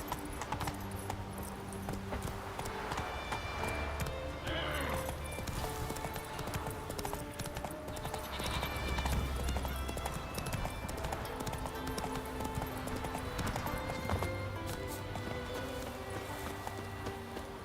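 Geralt's horse Roach gallops in Witcher 3, steady rhythmic hooves clip-clopping through a swampy bog area under faint game music and ambience.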